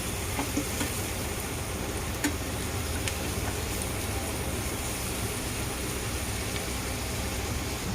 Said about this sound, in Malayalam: അതിലോട്ട് കൊച്ചുള്ളി ചതച്ചിട്ട് കൊടുക്കാം. ഇത് നമുക്കൊരു പകുതി മൂപ്പിച്ചെടുക്കാം.